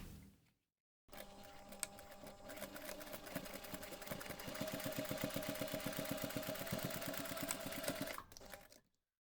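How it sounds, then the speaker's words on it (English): A sewing machine stitches the seams of a small fabric pocket pouch, a fast steady mechanical rattle running for about seven seconds and slowing to a stop, heard alone. "Then you're going to take this to the machine and we're going to sew both seams."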